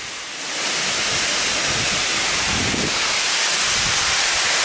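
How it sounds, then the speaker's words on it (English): A waterfall on a mountain trail at Doi Suthep near Chiang Mai, Thailand, gives a steady broad rushing roar that swells in after the first half second and holds alone, close and fairly loud. "ended up at this beautiful waterfall"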